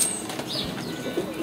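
A compact distance-bred racing pigeon coos softly close by, a brief low murmur with a light flutter, no voices.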